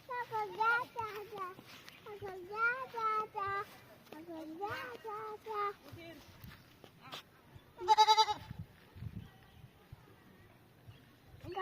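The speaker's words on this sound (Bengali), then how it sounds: "ছাগল ধরে না" Goats bleat in several wavering calls outdoors near a pond, with a louder burst toward the end, while a child and an adult talk throughout.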